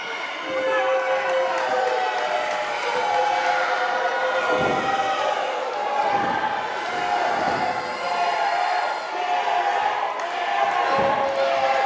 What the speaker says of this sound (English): You hear the crowd here, Lima, erupting